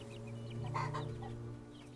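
Chickens clucking in the video game Bellwright, a short run of soft, rhythmic clucks over a steady low hum of background game ambience.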